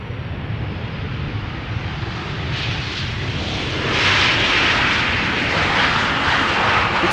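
A jet airliner comes in to land at Schiphol Airport, its engine roar broad and steady, heard from a distance before it swells louder and brighter toward the end.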